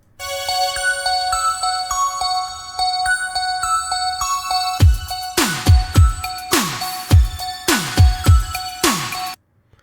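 A recording of a synth-pop song plays loud and clear: bright bouncing synth notes over a steady pulse, then punchy booming drum hits kick in before it cuts off abruptly.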